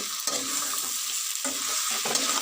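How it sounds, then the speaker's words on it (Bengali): Cabbage is stirred into sizzling spices and masala in a pan, cooking with fish head. The frying hiss is close and continuous, broken by repeated scraping stirs, with no talking. "নাড়াচাড়া করে একটু কষে নেব মশলার সঙ্গে বাঁধাকপিটা দিয়ে দিলাম"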